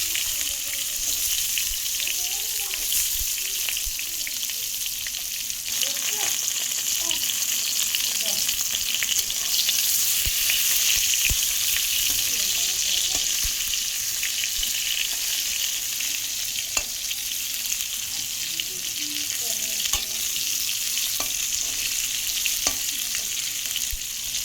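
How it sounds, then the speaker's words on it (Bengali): Pointed gourd (potol) frying in hot oil in a pan, a steady dense sizzle with occasional stirring scrapes, close and continuous throughout with no talk. "এবার আমি পটলটা ভেজে নেব, সুন্দর করে ভেজে নিতে হবে।"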